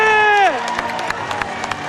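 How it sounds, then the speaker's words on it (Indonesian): A crowd at an esports arena cheering and applauding after a Mobile Legends pro league match, a falling tone at the start, then scattered claps and shouts over steady crowd noise. "Semuanya berdiri, standing applause untuk masing-masing tim yang berlaga."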